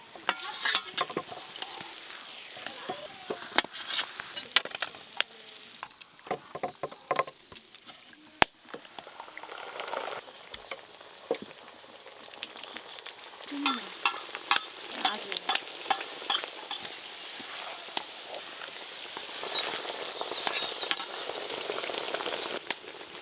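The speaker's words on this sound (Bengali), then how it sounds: "দেখতে দেখতে আবার দুটো মোগলাই পরোটা ভাজা হয়ে গেল।" Mughlai paratha frying in a pan, shallow-fried shop-style, with intermittent sizzling bursts, spatula scrapes and clinks, moderately close and without talk.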